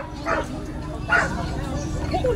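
A dog gives a few short yips and barks, close by, with voices and background noise around it.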